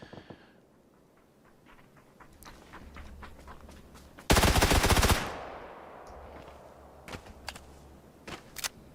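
Gunfire from a firearm aimed at someone's back, a dense burst of rapid shots in the middle, loud and close, with scattered single sharp cracks before and after over a low rumbling background.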